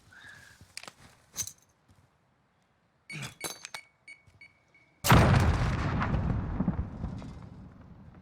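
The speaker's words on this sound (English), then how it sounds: "we blew up not only the person, but the lethal" A Semtex grenade explodes in the Modern Warfare video game: after sparse game clicks and clinks, a sudden loud blast erupts midway and rolls into a long decaying rumble with debris crackle.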